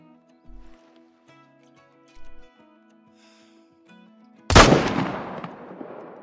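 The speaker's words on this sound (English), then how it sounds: "I think we should be able to try and make a heart shot, or at least be able to get a single or double lung." Single rifle shot at a water buffalo while hunting in the video game Call of the Wild, a sharp loud crack with a decaying tail, preceded by quiet ambient game tones and faint soft thumps.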